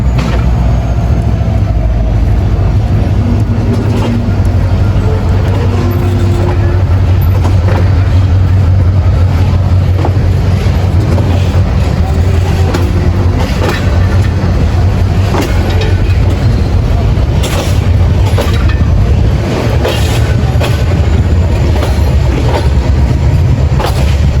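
The Rangpur Express pulls out of Gaibandha railway station at night, a loud, close, continuous rumble of carriages with rhythmic wheel clatter on the rails, sustained throughout.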